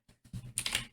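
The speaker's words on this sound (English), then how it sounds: "Typing the name of the person who sent it." A quick run of clicky computer keyboard keystrokes, close and moderately loud, with several rapid taps bunched together and no talking.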